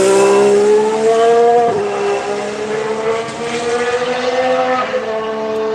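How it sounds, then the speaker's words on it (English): An Alfa Romeo Formula 1 car at a Barcelona test screams down into turn one, its loud, high engine note steady and then dropping sharply under braking before climbing and wavering through the corner, close to trackside. "Here comes the Alfa Romeo down into turn one."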